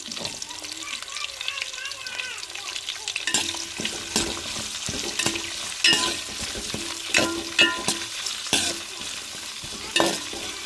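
Green chillies, garlic and onion sauté in a pan for a dried-fish curry, with a continuous close sizzle punctuated by repeated scraping and clinking stirring strokes.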